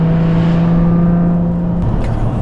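Kahn Vengeance car with an unsilenced stainless steel exhaust accelerating hard, a loud, close, steady engine drone that holds its pitch, then briefly drops as the revs change near the end.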